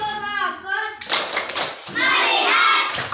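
Schoolchildren in an Indonesian classroom perform the "tepuk fokus" clapping routine, bursts of hand claps mixed with chanting young voices after a teacher's spoken lead-in, lively and fairly close.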